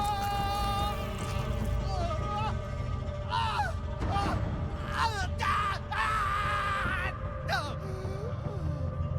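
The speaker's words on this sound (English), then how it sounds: "You get to listen to the voice actor scream." A voice actor in Baldur's Gate 3 screams and yells in repeated strained bursts over a droning game soundscape, the cries rising and falling across several seconds.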